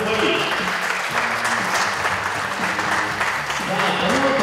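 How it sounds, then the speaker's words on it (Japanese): Loud, sustained applause from a crowd at a mixed 10m air pistol competition, steady clapping filling the whole stretch without pause. "2対2に追いついてきた松田、そして佐々木チーム、大きな拍手を送って"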